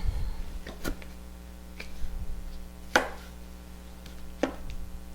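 Root vegetables chopped for a noodle root salad with a knife on a board: a few sharp, sparse thuds at irregular intervals over a steady low hum, with no talking.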